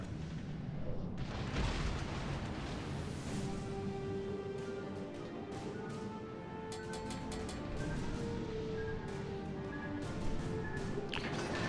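The heavy guns of a warship fire during a World of Warships: Legends battle involving the cruiser Alaska. Repeated booming blasts sit over a dense, rumbling din of battle noise that carries on throughout.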